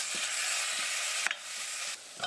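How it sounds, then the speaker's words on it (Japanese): Meat frying in a pan in olive oil with ginger: a steady close sizzle with brief stirring scrapes and clinks, a few louder knocks near the end, no voices. "油ごと生姜をすくって鍋やフライパンに入れて、いい感じに香りが立ってきたらお肉を投入"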